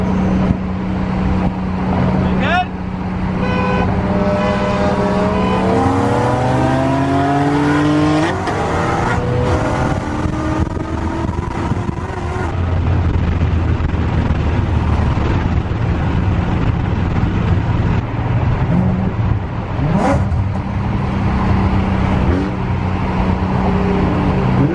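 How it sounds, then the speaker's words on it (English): A full bolt-on BMW N54 engine car races hard, its loud exhaust rising and falling through repeated rev sweeps and gear changes, close and continuous with no talking over it. "enjoy me racing this full bolt-on E40 N54"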